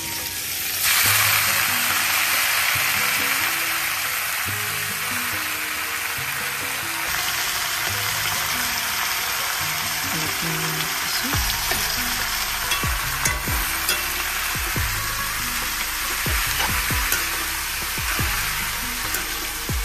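Leafy greens fry in oil in a pan alongside garlic and green chillies, giving a loud, continuous close sizzle with stirring scrapes and clatters from about midway on.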